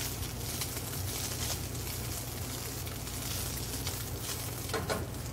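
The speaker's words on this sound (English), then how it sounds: "Now we add the turnips and the mushrooms. And you need to constantly stir here." Turnips and mushrooms sizzle steadily in an oiled pan while being stirred constantly, giving a continuous close frying hiss with soft scraping.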